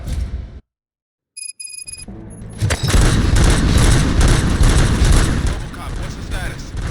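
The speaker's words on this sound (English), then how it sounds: "Gunshots? What's going on?" Gunfire erupts in the RoboCop Rogue City video game after a brief silence: dense, loud bursts of shots and booming impacts that sustain as a continuous barrage.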